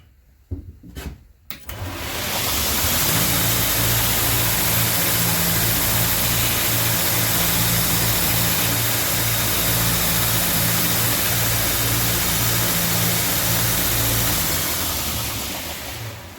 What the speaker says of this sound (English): This is just leather. It's easy to sand.